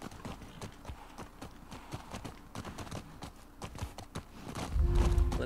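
Horse hooves clip-clop at a steady walking rhythm in The Last of Us Part 2, crisp close footfalls on a hard surface, followed by a sudden louder low rumble at the end.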